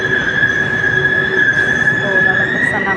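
LRT light rail train in the Philippines, a loud steady rumble with a sustained high wheel squeal running throughout, heard from close by.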